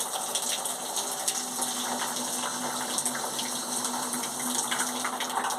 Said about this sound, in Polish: taka oto turbineczka wodna